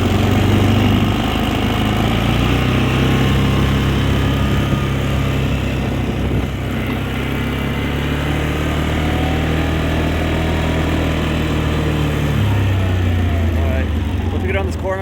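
Polaris Sportsman 400 ATV from 2013, ridden in low gear around a corner: a steady, loud engine drone runs throughout, close to the rider, dropping in pitch near the end as the revs ease.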